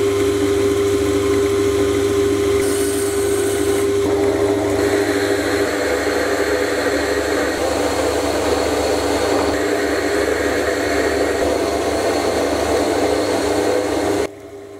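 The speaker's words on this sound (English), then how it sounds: "With the stock now cleaned up, I can now machine in the tap wrench handle." Metal stock turns on a lathe while a tap wrench handle is machined, giving a loud, steady motor drone with a constant hum and a cutting hiss that shifts slightly in tone before cutting off at the end.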